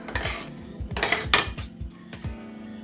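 A metal pan of roasted Mohan thal mixture clanks and scrapes as it is shifted onto another gas burner, several close metallic knocks and rattles in quick succession, then quieter.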